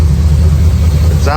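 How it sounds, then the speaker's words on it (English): A car engine with the front bumper off, held at steady raised revs, a loud, constant low rumble with a person talking over it. "I'll start bringing RPM up and see if I can mimic what driving would be"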